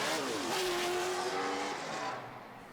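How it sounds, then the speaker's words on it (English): Race cars at a 2019 RDS GP drift round in Ryazan warming up, engines revving loud and sustained with rising and falling pitch, fading slightly near the end. "some cars warming up in the background"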